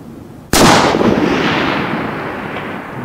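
A single sharp crack from a .308 Winchester rifle firing a 180 gr Flatline bullet at long range, loud and close, followed by a long rolling echo that slowly fades.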